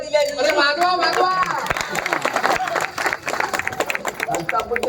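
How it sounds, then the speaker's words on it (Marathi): Audience clapping and cheering at an outdoor staging of the Marathi play Vastraharan, held for a school centenary festival in Madban, with broad crowd applause mixed with voices and chatter throughout. "प्रेक्षकांनी टाळी काय दिल्या"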